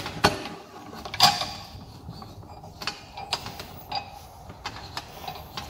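A screen printing stretch frame being tightened by hand, sharp mechanical clicks and ratcheting snaps breaking out at irregular moments over a faint, quiet background.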